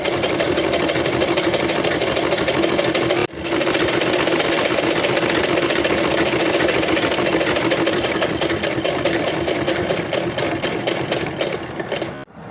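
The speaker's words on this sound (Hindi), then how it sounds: "अब हम यहाँ पर सिलाई लगाएंगे। बिल्कुल हम बराबर बराबर लगाएंगे सिलाई।" Sewing machine running steadily while stitching a fabric collar, a loud, continuous close-up whir with one brief pause early on and slowing near the end, with no talking over it.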